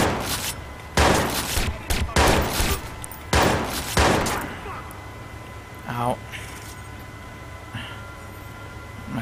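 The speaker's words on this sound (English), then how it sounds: "Some shotguns." Shotgun blasts in a Watch Dogs firefight: several loud, sharp booms in quick succession early on, then a few scattered quieter shots and game noise as the exchange dies down, with someone's voice present in the mix.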